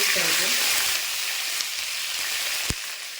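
Curry leaves sizzling in hot oil in a pan, with a bright, steady crackling hiss that is loudest at the start and settles slightly, plus a sharp tap near the end.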